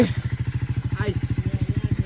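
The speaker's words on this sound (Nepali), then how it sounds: "यो बाइक चाहिँ कोल्ड स्टार्ट भइरहेको रहेछ" A motorcycle engine chugs in a fast, steady rhythmic thump, running rough just after a cold start on a snowy winter night, with a voice briefly heard over it.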